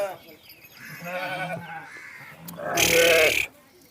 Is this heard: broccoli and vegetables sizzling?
no